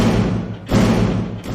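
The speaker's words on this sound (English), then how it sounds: "the doors of Thomas's shed began to rattle on their hinges." Heavy wooden shed doors rattle and bang on their hinges, two loud dull thumps with a lingering low rumble between them, close and without talk.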